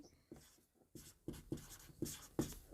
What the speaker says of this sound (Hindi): यहाँ पे लिख लेते हैं